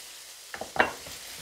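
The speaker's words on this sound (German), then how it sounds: "Für unseres leckeres Bauernfrühstück brauchen wir ein bisschen Speck. Das lassen wir schön anbraten, den Speck." Bacon frying in a pan for a German farmer's breakfast, heard as a soft sizzle with a few brief scraping stirs and clicks of a utensil against the pan, fairly quiet and close.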